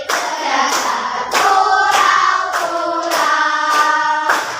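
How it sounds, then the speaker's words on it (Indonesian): Audience in an Indonesian classroom or hall standing and clapping hands in steady rhythm while singing a patriotic song together; loud, close group clapping continues under the sung melody throughout. "Berdiri lagi, sambil tepuk tangan."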